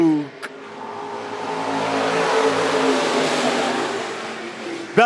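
Race cars at a dirt track raceway rev and accelerate together at the green flag start, a swelling, sustained engine roar that builds and holds, with an announcer's voice over it.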